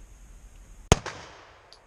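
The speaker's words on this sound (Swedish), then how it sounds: "Du får skjuta nästa skott när du vill." A single sharp pistol shot cracks at a shooting range, loud and close, followed by a brief echoing decay in an otherwise quiet moment.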